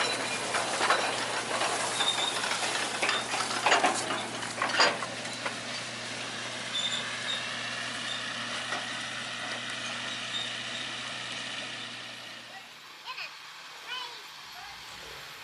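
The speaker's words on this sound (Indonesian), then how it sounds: "lokomotif lewat di samping persawahan ya" A Skoda sugarcane locomotive, number 07, hauls about ten cane lorries past rice paddies at the PG Kedawung sugar mill, a steady rolling rumble with faint clanks that fades out, while someone talks over it.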